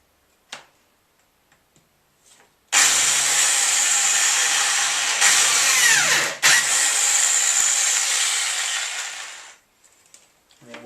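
Power drill with a drill bit chucked in, whirring loudly and steadily for about seven seconds with a brief dip midway, preceded and followed by a few faint clicks.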